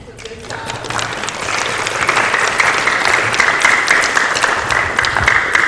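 Applause from an audience at a school district board meeting for students, clapping building quickly and holding steady and fairly close, with voices talking over it.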